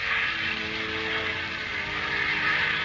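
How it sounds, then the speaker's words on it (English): A lone propeller airplane roars steadily and loudly through a smoky wartime sky toward its target, a sustained engine drone produced as a radio drama effect, with no voices over it. "a lone airplane roars toward its target"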